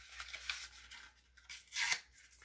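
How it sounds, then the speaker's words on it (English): Cardboard lid of a small box being torn off by hand, a few rough ripping bursts with short pauses, close and fairly loud, the longest tear near the end. "I'm just going to basically tear the lid off it"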